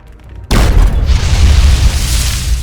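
A landmine goes off in Fallout 3 with a sudden loud, close blast, followed by a deep rumbling roar that slowly fades over about two seconds. No voices are heard.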